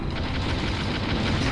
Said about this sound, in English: Alright, gunfire should be hitting right now.